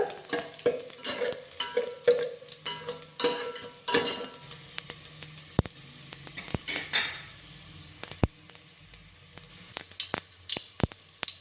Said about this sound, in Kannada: ಇದು ಸ್ವಲ್ಪ ಕಪ್ಪು ಕಲರ್ ಬರೋ ತನಕ ಫ್ರೈ ಮಾಡ್ಕೊಳ್ಳೋಣ